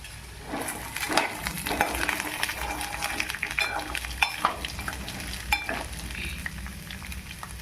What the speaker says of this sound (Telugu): మిక్స్ చేశాక ఆలు వేసుకొని మరలా మిక్స్ చేసుకోవాలి.